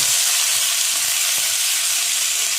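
Soaked chana dal hits hot ghee in a pan, giving a loud, even, continuous sizzling hiss close up, with faint stirring underneath and no talking.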